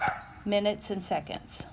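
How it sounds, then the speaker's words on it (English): Several neighborhood dogs bark in short yips and woofs, heard outdoors from a front porch on a weekday noon, mixed in with someone talking. "you can also hear some dogs barking from the neighborhood too"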